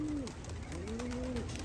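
Racing pigeons at a loft during a fly-out give a few soft cooing calls over steady outdoor background noise, with no talk.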